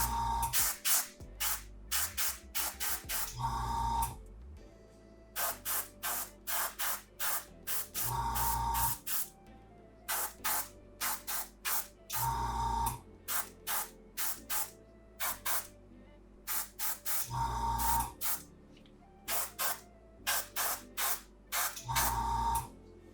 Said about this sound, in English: the airbrush can do a really good job, especially if you're being light with your sprays and speeding up the drying process